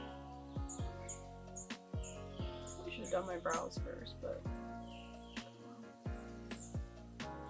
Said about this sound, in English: do you hear these birds?